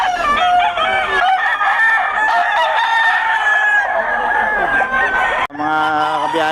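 A Kelso sweater gamecock rooster crows loudly and close by, in one long strained call and then a second crow starting near the end, at a gamecock sellers' market.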